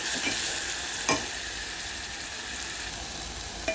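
A ground masala paste fries in a pan with a steady, fairly soft sizzle, and a couple of brief utensil scrapes break through now and then.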